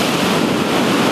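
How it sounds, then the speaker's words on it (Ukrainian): Black Sea waves wash onto the shore near Odesa, a dense, continuous roar of surf mixed with wind noise, loud and close. "Чорне море."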